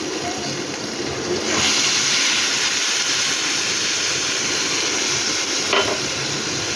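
Ground spices frying in a pan hiss into a louder, steamy sizzle as about half a cup of water is poured in, then keep bubbling steadily and close by with no voices.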